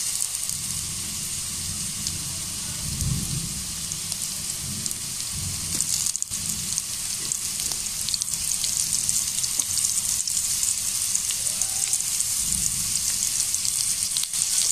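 Carrots tipped into a pan of onion and garlic already frying, giving a steady loud sizzle for the whole stretch with brief stirring bursts and no talking.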